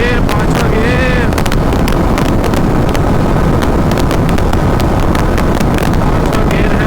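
A TVS Apache RR 310 motorcycle in fifth gear, climbing a slope, gives a steady engine drone heavily buffeted by loud wind noise on the microphone throughout.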